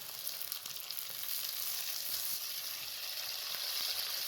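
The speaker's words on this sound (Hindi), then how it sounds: "प्याज को हल्का सा लाइट सा ब्राउन करना है, डार्क ब्राउन नहीं करना।" Onions frying in a pan until light brown give a steady, close crackling sizzle with scattered small pops, continuous and moderately quiet, no speech.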